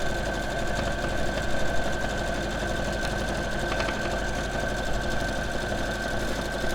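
Electric sewing machine running steadily while stitching a cushion and quilt, a close, continuous whirring drone with fast needle chatter and a constant motor hum, no speech over it.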